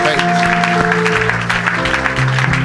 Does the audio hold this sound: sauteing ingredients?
no